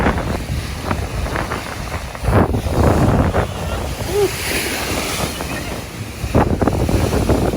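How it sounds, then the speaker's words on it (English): Strong wind roars and buffets the microphone, with surging gusts and a rushing, surf-like background throughout. "it's so windy."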